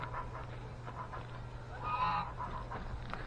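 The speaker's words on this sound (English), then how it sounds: "And Wendy is chasing our geese." A pet goose gives a single faint honk partway through, set against a quiet outdoor background with a low steady hum.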